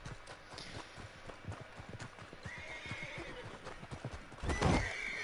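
A horse in the Red Dead Redemption 2 Online video game whinnies loudly near the end, preceded by steady rhythmic galloping hoofbeats drumming close by throughout.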